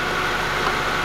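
An Acura RSX engine idles during diagnosis of a P1077 fault code, giving a steady low hum with no talking.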